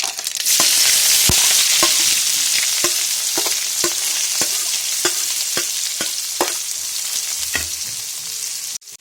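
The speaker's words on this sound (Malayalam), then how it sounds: "നമുക്ക് സബോള അതിലേക്ക് ചേർത്ത് കൊടുക്കാം" Sliced onions fry in hot oil with mustard seeds for a tomato curry, a loud constant sizzle broken by frequent sharp pops and spatula scrapes, heard alone at close range.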